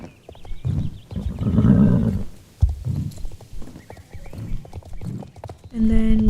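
Hoofbeats of a horse in the video game Star Stable Online, a rhythmic clip-clop close by with a neigh near the end, while a person talks over it.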